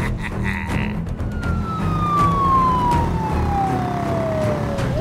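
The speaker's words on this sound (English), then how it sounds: "I am driving a police car." A police siren wails with a long, falling tone over the steady rumble of a moving vehicle.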